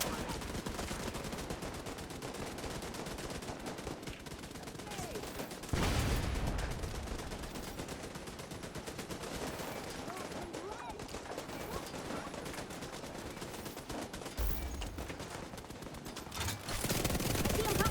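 Video game turrets fire at enemies in a steady stream of rapid automatic gunfire, with a few louder bursts, running under intermittent talk throughout.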